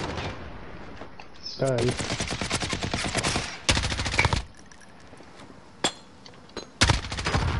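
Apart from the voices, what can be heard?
gunfire shooting at the player in a video game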